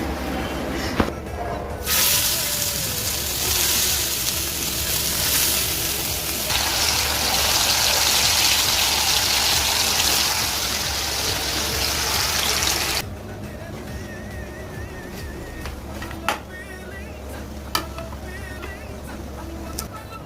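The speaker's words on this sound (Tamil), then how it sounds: "மீன் குழம்பு வந்து சூப்பரா ரெடி ஆயிட்டு இருக்கு. நல்லா கொதிச்சு வந்துட்டு இருக்கு" A pot of fish curry boiling hard on the stove for a Sunday lunch, giving a steady loud hiss and bubbling that runs for most of the clip, then drops to quieter simmering near the end.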